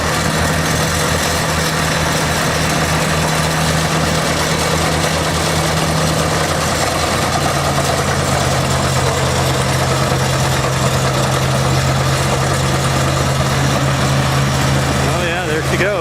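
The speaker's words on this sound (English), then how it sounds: "Watch him crank her up. Hear that? Some of that good IH diesel." International Harvester diesel tractor engine at a Red Power Round Up show, a loud steady rumbling idle with a low throbbing note, heard close outdoors amid crowd noise and someone talking.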